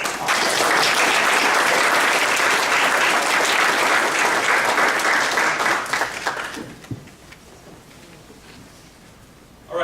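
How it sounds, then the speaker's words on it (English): Audience clapping fills a conference room after innovation talks, loud and sustained for about six seconds, then fading to scattered claps and quiet room noise. "Let's give them another round of applause."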